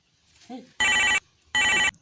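A mobile phone rings twice in loud, bright electronic bursts, each about a third of a second, after a brief faint sound in a quiet room.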